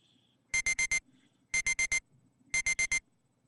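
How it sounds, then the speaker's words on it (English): A wristwatch alarm going off in the visual novel game Never7, three clear bursts of four quick high electronic beeps each, evenly spaced in a quiet room. "My watch alarm."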